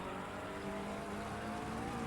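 McLaren 720S GT3 race car lapping Imola in Assetto Corsa Competizione, its engine a steady, loud, continuous drone with tonal harmonics and faint tire noise, no voices.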